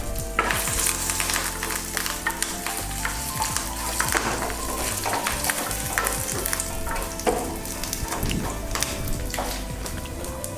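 Chana dal, badgi chili and fresh curry leaves sizzle and crackle steadily in hot oil as a tempering for coconut chutney, with occasional stirring scrapes running through the whole stretch and no talk.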